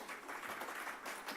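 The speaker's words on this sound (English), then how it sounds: "Please a big round of applause for Emily." Audience applause at an AI conference, a soft, distant wash of continuous clapping, steady and faint for its short length.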